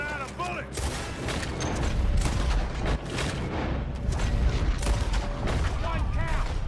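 Repeated gunshots from the Red Dead Redemption Western game crack out in dense bursts, a running firefight with broadband blasts over a steady low rumble and scattered voices, loud and close throughout.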